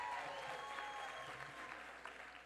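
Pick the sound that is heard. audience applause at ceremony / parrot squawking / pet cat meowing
audience applause at ceremony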